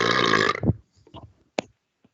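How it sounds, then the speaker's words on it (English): A single loud, throaty burp opens, followed by faint mouth noises and a brief soft sound, heard alone without speech. "Burp."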